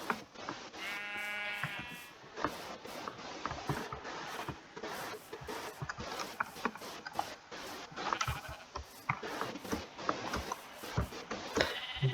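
Sheep bleat repeatedly in the video game Minecraft, a flock grazing across a pasture, with clear harmonic bleats early on among busy clicking and pattering game sounds throughout.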